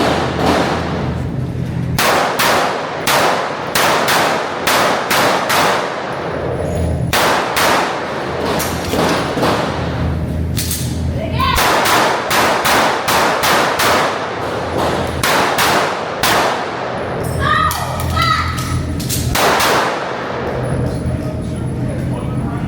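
Kimber 2K11 Comp pistol fires during a shooting match stage, rapid strings of sharp loud shots in bursts with brief pauses, some clanging steel target hits among them.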